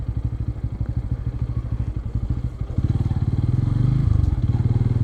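A motorcycle rides near Eduppayal temple, its engine a steady low pulsing throb that grows louder and fuller partway through, close by with no talk.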